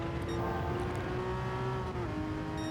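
Porsche Cayman GT4 race car engine at the Nürburgring in Gran Turismo 7, a sustained, high, buzzing engine note held at speed with a brief pitch dip as it shifts, steady and even throughout.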